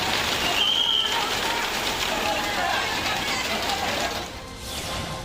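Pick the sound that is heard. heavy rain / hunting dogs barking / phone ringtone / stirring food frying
heavy rain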